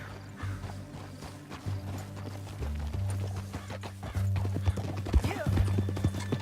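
Rhythmic clip-clop of hooves at a fast gait in Red Dead Redemption 2, with a horse's whinny and a steady low hum beneath; a voice is heard.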